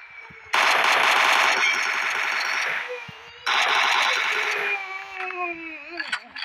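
Two long bursts of rapid automatic machine gun fire from PUBG Mobile, separated by a short pause, followed by whooshing and chatter.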